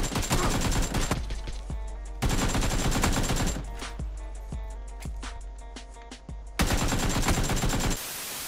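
Close, loud PlayerUnknown's Battlegrounds gunfire comes in sharp repeated bursts, some rapid automatic strings and some single heavy shots, with short pauses between volleys.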